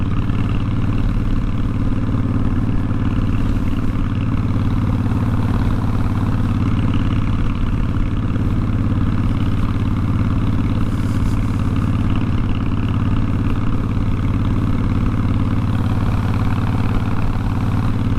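A motorcycle engine runs at steady throttle on a ride through New Mexico, a continuous loud droning hum with a fine mechanical clatter, holding an even pitch throughout with no speech.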